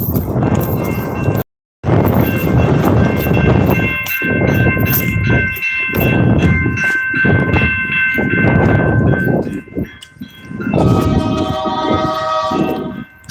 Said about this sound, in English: I gotta beat this train,